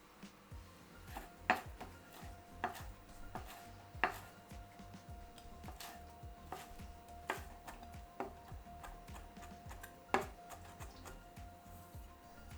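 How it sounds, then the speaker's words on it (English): A kitchen knife chops wood ear mushrooms on a cutting board in a steady run of close, crisp taps, with a few sharper louder strikes among them. "For the wood ear mushrooms, I like to stack a few, slice them into ribbons, then rotate the pile and finely chop."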